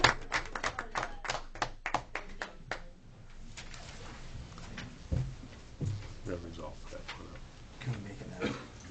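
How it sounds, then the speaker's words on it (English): A brief round of applause for volunteers at a 2017 town council meeting, with a handful of sharp, sparse claps in the first few seconds before talking takes over in the room. "I think you deserve a round of applause"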